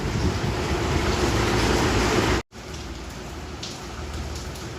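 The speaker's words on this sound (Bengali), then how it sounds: "বৃষ্টি হচ্ছে" Rain falls steadily outside a house, a dense, even hiss that cuts out abruptly for a moment midway before resuming slightly softer.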